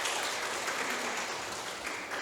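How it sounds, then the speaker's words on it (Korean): A church congregation at a Sunday morning worship service claps together, a steady, even wash of applause heard at a moderate distance. "하나님께 영광의 박수를 드립니다."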